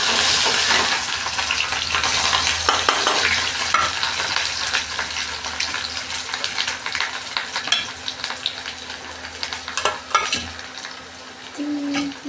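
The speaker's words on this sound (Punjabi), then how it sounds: "ਇੱਧਰ ਸਬਜ਼ੀ ਤਾਂ ਲੱਗੀ ਤੜਕਾ ਭੁੰਨਣ" Tadka for a vegetable curry sizzles in a pan, a steady hiss of frying spices broken by scraping stirs and occasional clinks of a spoon against the pot, close and fairly loud.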